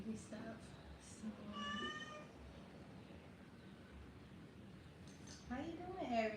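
A pregnant pet cat meows several times, short nasal cries close by with gaps of quiet between, the last ones overlapping someone talking.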